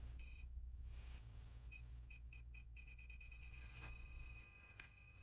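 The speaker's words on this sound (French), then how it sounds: "Il ne reste plus qu'à positionner le buzzer qui fait bip bip." A parking sensor buzzer newly fitted in a Renault Clio 2 beeps, first in a few spaced bursts, then faster and faster until it nearly runs together, fairly faint against a low rumble.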